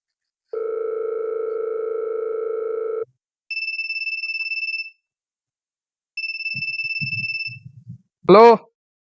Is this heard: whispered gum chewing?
no